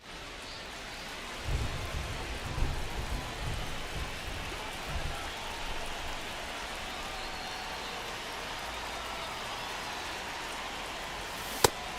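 Steady rain falls over a baseball field in the MLB The Show 25 video game, a continuous broadband hiss across the whole stretch with low rumbling bursts early on and a brief sharp click near the end.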